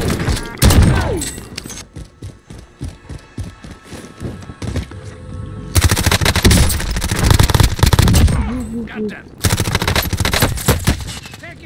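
Video-game gunfire in Warzone, loud bursts of rapid automatic fire and single shots in dense volleys, with brief pauses between bursts and no voices.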